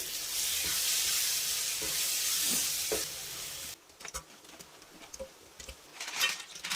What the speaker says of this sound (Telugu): ఇప్పుడు అందులో మనం కడిగి పెట్టుకున్న పీతలు వేసుకోవాలి.